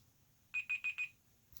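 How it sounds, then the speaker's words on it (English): A timer alarm sounds four quick identical electronic beeps in an even rhythm, close and clear over a quiet room, during an adhesive comparison test. "Got my timer going"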